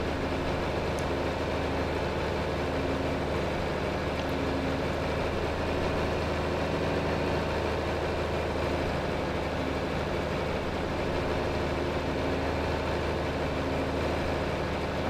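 Tractor engine running in the Farming Simulator 25 video game while plowing, a steady loud low drone with a constant mechanical hum holding through the whole stretch, no voices over it.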